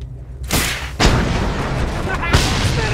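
A Thunderpoon harpoon launcher fires in Mad Max, the in-game weapon sounding as a series of heavy booming blasts, with one near 0.5 s, one at 1 s and another around 2.3 s, each trailing into a loud rumbling wash.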